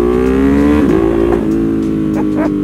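A Ducati Panigale V4 SP motorcycle engine revs up and down steadily in its stock form, close-up and loud, with a strong harmonic drone and a few sharper throttle blips.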